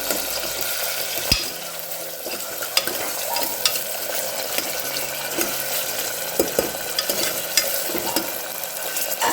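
Onion sautés in a pan until brown for masale bhat, a close continuous sizzle broken by scattered sharp clicks and scrapes of stirring, with no talking.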